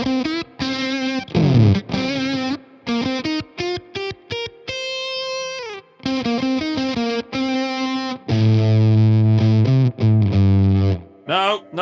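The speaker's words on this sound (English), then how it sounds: "that's a good fuzz" Electric guitar through a Crazy Tube Circuits Venus fuzz pedal, loud and thick with saturated fuzz, playing choppy stabs, quick runs and bends, then heavy sustained low chords and a closing squeal.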